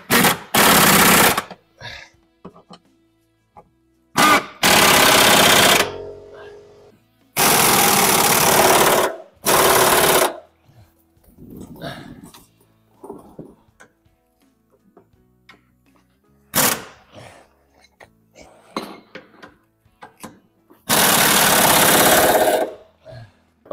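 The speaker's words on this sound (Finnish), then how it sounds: "nämä hylsyt menee vaan oikeastaan yhdessä asennossa tähän pulttikoneeseen" Impact wrench with sockets working on a Volvo V70 during a steering rack replacement, loud rattling bursts of one to two seconds repeated several times with quiet gaps, plus some clanks between them.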